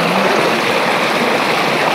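Water from a spring on a vegetable farm pours and rushes steadily, a close, continuous splashing flow with no pauses and no voices.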